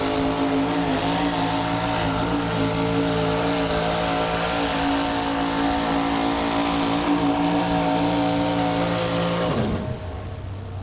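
A pulling truck with a 6-cylinder 216 Chevrolet engine roars loud and steady at a 1987 USHRA event in Buffalo, holding a strong drone for about ten seconds before abruptly quitting near the end.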